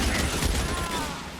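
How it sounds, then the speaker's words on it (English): Rapid bursts of gunfire in the L.A. Noire detective video game, a dense crackling fusillade running throughout at close range with faint talk mixed underneath. "Estamos acá cagándonos a tiros."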